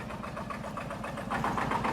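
A Porsche Diesel Standard tractor engine idles close by with a steady, knocking diesel chug that grows slightly louder near the end.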